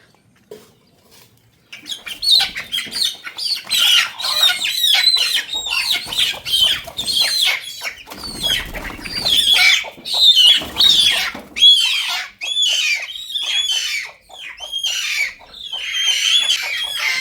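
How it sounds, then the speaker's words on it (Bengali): Chickens in a rural Bangladeshi yard squawk and cluck loudly in frantic bursts while wings flap as they are caught in the early morning after rain, a continuous close chorus of panicked calls. "সব মুরগি আন্দোলন শুরু করে দিছে মুরগি ধরার কারণে"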